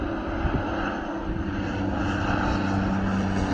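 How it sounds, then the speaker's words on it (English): A de Havilland Twin Otter propeller plane circles overhead above a river preserve, its steady droning engine and prop hum filling the air without pause or voices. "here was that Twin Otter going around"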